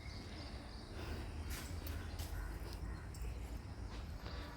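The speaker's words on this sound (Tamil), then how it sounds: "காக்கா கரெக்டாக வந்துட்டார்." A crow caws a few times in short bursts over a steady outdoor hum of crickets and insects in the early morning, fairly faint and at a distance, with no one talking.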